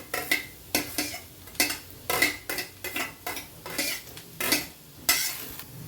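Cashews, grated carrot and coriander being sautéed in a pan, heard as a run of sharp, close scraping and clinking strokes from a spatula against metal, repeating every half second or so, with no talk.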